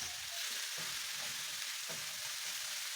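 Ground beef sizzles and fries in a pan, a dense steady crackle with occasional scraping as the meat is stirred and broken up, heard alone.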